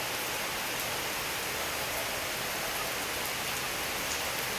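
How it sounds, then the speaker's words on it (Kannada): Steady monsoon rain pours down without a break, a dense even hiss of drops on surfaces that stays at one level throughout, with no voices over it. "ಇನ್ನೂ ಮಳೆಗಾಲ ಶುರು, ಇನ್ನೂ ಮಳೆನೇ"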